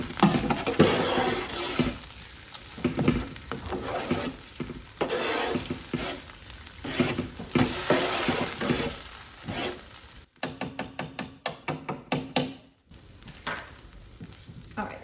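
Food being stirred and broken up in a hot frying pan, with steady sizzling and repeated scraping strokes, close and fairly loud, and a burst of sharper clattering near the end.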